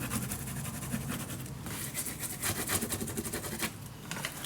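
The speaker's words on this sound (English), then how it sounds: "Okay, burnish it down." Paper is burnished down on a paper bag mini album with a soft, steady rubbing that comes in quick repeated strokes. The sound is close but faint and carries on for several seconds without talk.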